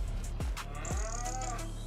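Cows mooing on a farm in the early morning, with a few deep, drawn-out moos close by, one after another, over steady low farmyard background noise.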